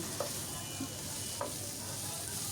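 Beef brain bhuna being stirred and fried in a pan: a soft, continuous sizzle with a few light scrapes of the spoon, steady and fairly quiet.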